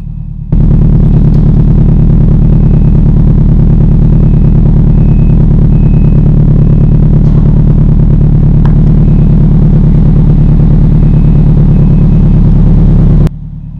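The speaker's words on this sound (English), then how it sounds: "let's go out here, listen to the exhaust" A Nissan 240SX S14 engine idles with a deep, steady exhaust rumble, loud and close, holding an even drone for the whole stretch.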